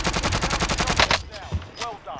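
Rapid automatic gunfire in the Warzone video game, a fast burst of evenly spaced shots lasting about a second, followed by scattered distant game noises and a brief thump.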